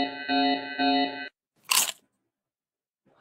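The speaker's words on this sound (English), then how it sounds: "And now we got a chewing sound from Maxwell the cat." A short electronic tone plays, then after a pause comes a single loud crunchy bite, followed by silence.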